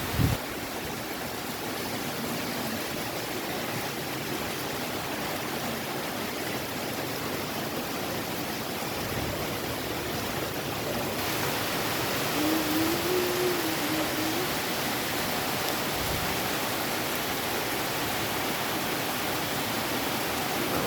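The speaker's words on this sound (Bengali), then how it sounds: "বিশাল বৃষ্টি হচ্ছে, ভীষণ জোরে বৃষ্টি হচ্ছে।" Heavy rain falls during a storm as a loud, unbroken roar of dense downpour that stays steady throughout, with no voices.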